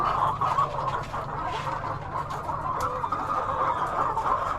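A flock of chickens clucking continuously, a dense, busy chatter of hens close by with no pauses.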